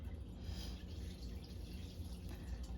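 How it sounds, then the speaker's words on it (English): Water running into a plant container, a steady low gurgling pour with faint splashing, close and continuous under a quiet background hiss. "I'm going to fill it up with water a little bit before I plant the plants."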